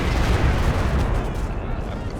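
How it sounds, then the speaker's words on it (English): Sustained heavy gunfire in Company of Heroes 2, shots aimed at an MG42 position, a dense continuous roar of overlapping bursts and booms, loud and close throughout. "Duke is shooting again. Again on the MG42."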